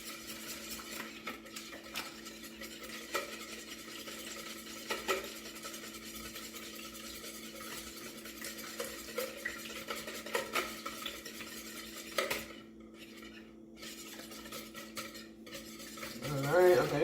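A pot of food being stirred during Thanksgiving cooking, with steady scraping and clinking of a utensil against the pot over a low background hum, closer and louder toward the end.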